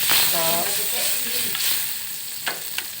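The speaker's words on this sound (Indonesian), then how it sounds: "Minyak mentega sebanyak 1 sendok makan untuk menyiram ke sini," Melted butter and oil poured over ground peanuts for Padang-style salad, giving a steady close sizzle with some stirring and a couple of sharp clicks near the end, with no talk.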